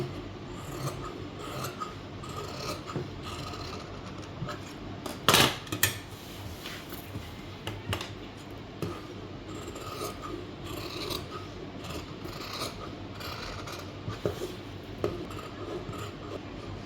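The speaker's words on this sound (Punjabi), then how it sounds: "ਤੇ ਚੌਥਾ ਤਾਂ ਇੰਚ ਕੱਪੜਾ ਛੱਡ ਕੇ ਤੇ ਇਹਦੀ ਕਟਿੰਗ ਕਰ ਦਾਂਗੇ" Scissors cut through fabric while shaping a lace-trimmed neckline, giving a steady close rasping snip throughout with one sharper louder cut partway through; no voices.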